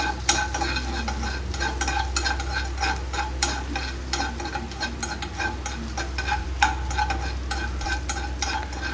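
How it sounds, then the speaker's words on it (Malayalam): Finely chopped garlic sizzles and fries in a pan for a cauliflower and capsicum curry, with a steady close crackle and frequent scraping stirs of a utensil throughout. "6-7 പല്ല് വെളുത്തുള്ളി ചെറുതായി കൊത്തി അരിഞ്ഞിട്ടാണ് ഇടേണ്ടത്. അത് കുറച്ച് റോസ്റ്റായതും"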